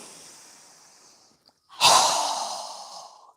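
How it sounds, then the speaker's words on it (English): A strong, forceful exhale during a yoga breathing exercise bursts out loudly and close after a quieter breath and a brief pause, then tapers off over about a second and a half. "Strong exhale."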